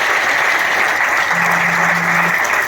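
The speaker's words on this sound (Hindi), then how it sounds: "सत्यपाल सर के लिए एक बार मैं जोर से तालियां करना चाहता हूं।" An audience bursts into loud, sustained applause for Satyapal sir at a Vestige business event, a dense wash of clapping that stays even from start to finish, with a faint steady hum in the middle.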